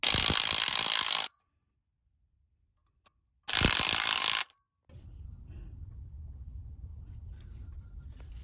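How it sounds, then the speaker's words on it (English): A spring compressor squeezes valve springs on an engine's cylinder head, giving two loud bursts of close mechanical ratcheting and grinding with silence between them, then a low, quieter rumbling hum. "I will squish the springs so that I can put all locks on top of each springs."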